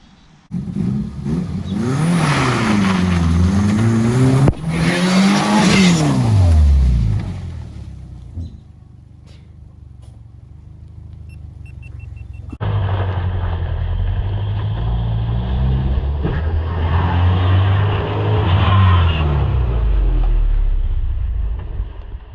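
An old Subaru car engine revs and accelerates, loud with wind buffeting, then drops to a quieter lull before another long pull of rising engine noise.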